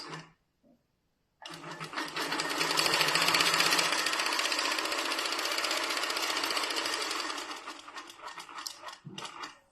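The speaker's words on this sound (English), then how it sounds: "And it does the micro stitches at the end." A 15-inch Moxie longarm quilting machine whirs into a fast, steady run of tiny micro stitches, loud and close, starting after a brief pause and tapering off near the end with a few faint clicks.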